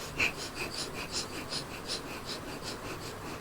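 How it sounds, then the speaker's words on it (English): Rapid, shallow breaths in a quick, even rhythm of short puffs, close and fairly quiet, with no talking over them. "So you take rapid, shallow breaths like this."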